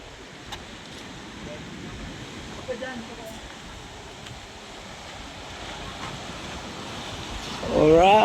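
Strong ocean waves roll against the rocky coast at Kaybiang Tunnel, a continuous roaring wash mixed with wind buffeting the microphone, and a voice starts talking at the end.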